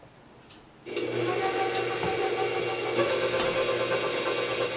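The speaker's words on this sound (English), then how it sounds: "I'm going to start mixing the butter, sugar, salt, and eggs" An electric mixer starts after a short pause and runs steadily through butter, sugar, salt and eggs for a feather roll dough, a constant whirring hum close by with no talking.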